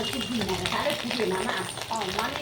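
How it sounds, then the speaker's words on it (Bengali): Fish roe fritters fry in hot oil over a low flame, giving a steady close sizzle with light stirring, while a voice talks over it. "তো একদম লো ফ্লেমে বড়াগুলো ফ্রাই করতে হবে"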